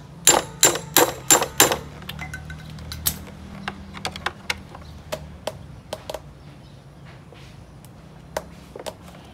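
An impact driver works on screws on a Kia Cerato during a radiator fan motor replacement. A burst of five loud, sharp strikes is followed by scattered fainter clicks and taps, close by.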